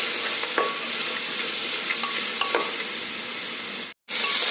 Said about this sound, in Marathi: बीन्स, गाजर, आणि मटार घालायचं. परत छानसं परतून घ्यायचं.